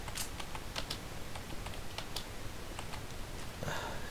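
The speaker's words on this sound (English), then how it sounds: "Is my keyboard slowly being defective?" Typing on a computer keyboard that may be going faulty, with quick irregular key clicks tapping through the clip, close and fairly quiet over a steady background hiss.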